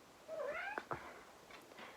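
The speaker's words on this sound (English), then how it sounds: "My cat is here." A cat meows indoors, one clear rising-and-falling meow close by followed by softer chirpy trailing calls, against a quiet background.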